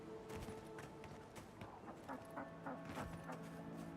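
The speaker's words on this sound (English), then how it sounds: "That sound. Is that a chicken?" A chicken clucks faintly in a fantasy village in the game Avowed, a series of short, soft, repeated clucks over low ambient game sound.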